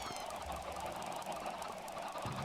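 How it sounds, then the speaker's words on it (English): Chickens clucking on a farm in the Minecraft video game, a steady busy layer of fowl noises over continuous background game ambience with no talking. "Here's our chickens"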